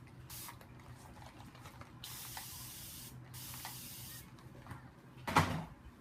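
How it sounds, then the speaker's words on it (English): Water sprays in several soft hissing bursts onto a piece of wavy hair weave, followed by a sharper, louder spritz near the end, all close by with no talking. "So I just wet this little piece of it here."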